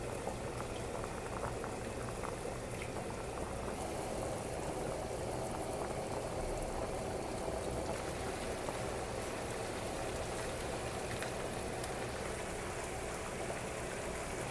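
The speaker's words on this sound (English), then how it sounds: "I got my pasta water boiling." A pot of pasta water at a rolling boil, bubbling and hissing steadily and densely at close range for the whole stretch, with no voices.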